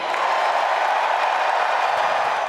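Crowd ovation for Joe Biden at a political convention, a dense, steady roar of applause and cheering filling the whole stretch, loud and continuous with no break.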